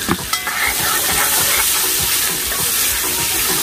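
Onions sizzle steadily and loudly in hot oil in a pot while being stirred, with a constant frying hiss and a few scraping knocks at the start.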